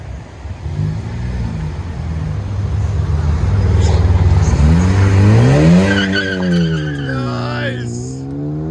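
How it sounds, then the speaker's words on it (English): A 2017 Ford Focus ST with a six-speed manual and a 3-inch MBRP cat-back exhaust revs up close and loud, its exhaust note rising and falling through sweeping pitch changes as it pulls away. "Ford Focus ST, 6-speed standard MBRP system, catback, 3-inch."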